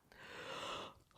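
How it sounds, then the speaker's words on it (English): One deep, slow inhalation drawn through the mouth, like a yawning belly breath before playing tuba, close and soft, lasting about a second with no speech. "take a deep yawning belly breath"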